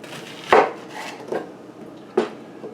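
An onion is chopped on a board: three separate knife strikes with soft scraping between them, close and fairly crisp, with no talking.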